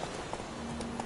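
Roach the horse gallops in The Witcher 3, a steady run of soft hoofbeats over a constant bed of rushing noise, with no voices heard.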